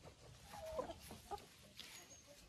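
Hens, including crested Czech Dominant birds, give a few soft, brief clucks at low volume in a quiet coop, with faint rustling behind them.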